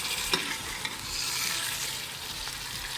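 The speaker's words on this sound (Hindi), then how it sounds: "जैसे ही हमारा ऑयल गर्म हुआ हमने इसके अंदर डाल दिया है कलेजी पोटा" Chicken gizzard and liver fry in hot oil with a dense, steady, close sizzle and a couple of faint spoon taps, and no one talks.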